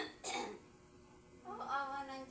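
A returning cough: one sharp, close cough, a quiet pause, then a rougher throat-clearing cough that trails into voiced sound, all fairly soft in a quiet room.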